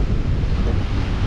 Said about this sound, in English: the waves ain't that bad.